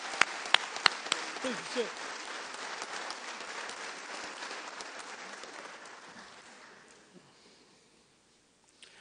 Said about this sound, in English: how about a round of applause for our Army warriors?